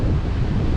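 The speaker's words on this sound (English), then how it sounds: "that'll give me a bit of shelter because it is a bit blowy" A blustery sea wind buffets the shore of a fishing beach, a loud, continuous rushing roar with surf mixed in and no voices, cut off after under a second.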